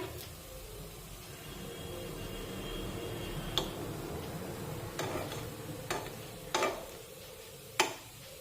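Green moong appe cook in an appe pan, a steady low sizzle running throughout while several sharp clicks and taps mark the dumplings being turned, close by and without speech.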